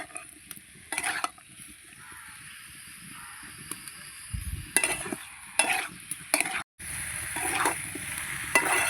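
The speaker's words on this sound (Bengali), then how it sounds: "ভালোভাবে আমি এঁচোড় আর আলু মশলা একসঙ্গে কষিয়ে নিয়েছি।" Jackfruit and potato in a spice masala sizzle as they are sautéed in a pan. The spatula scrapes and stirs in repeated strokes over the constant hiss, and there is a brief drop out near the end.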